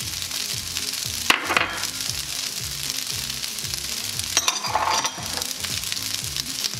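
Fried rice with onions and Cajun spices sizzles in a pan while being stirred, a steady close frying hiss with repeated soft scraping strokes and a couple of sharper clatters.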